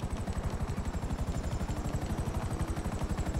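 A Maverick helicopter in GTA 5 Online whirs with rapid, evenly pulsing rotor thumps and a thin high whine, loud and steady throughout.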